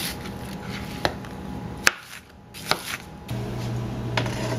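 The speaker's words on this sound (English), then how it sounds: "Dicing up a sweet onion." A knife dices a sweet onion on a board in a few sharp, spaced chops over a quiet background hiss.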